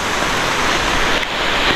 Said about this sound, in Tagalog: napakalakas na ng ulan mga idol